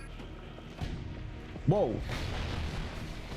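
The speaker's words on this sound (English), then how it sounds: "It's literally just cannons coming in from the shore." Cannon barrage from the shore pounds a Call of Duty multiplayer match, heavy booming thuds rumbling steadily with one sharper impact near the middle, while a player's voice cuts in briefly.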